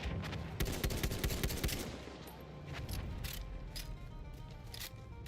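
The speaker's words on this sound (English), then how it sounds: "That's an enemy machine gun." Rapid machine gun bursts from an enemy position in Battlefield 1, dense and loud at first, then thinning into scattered, more distant shots, heard alone without talk.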